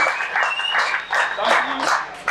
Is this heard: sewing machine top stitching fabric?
no